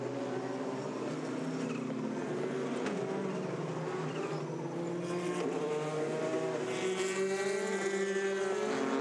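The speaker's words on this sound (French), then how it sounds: "la numéro 17 d'Egor Orudzev dans l'enchaînement des virages du karting dans la zone du Corvette Corner." A Le Mans prototype race car, number 17, drives through the Karting and Corvette corners at the 24 Hours of Le Mans, its engine a faint, continuous whine with rising and falling revs and gear changes from a distance.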